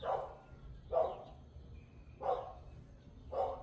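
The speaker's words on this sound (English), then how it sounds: "What are they barking at?" Four dog barks spaced about a second apart, moderately distant and slightly muffled, with no talking.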